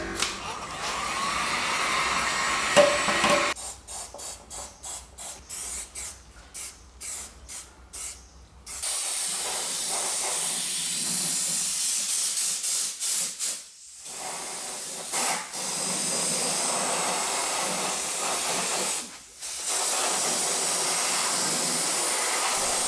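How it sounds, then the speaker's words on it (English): Metal on a car suspension part is preheated before coating with a hot-air blower or torch that roars as a steady rushing hiss, repeatedly pulsed on and off in short bursts, then held in long continuous stretches. "I'm preheating this area because I don't want any moisture to be on the metal part."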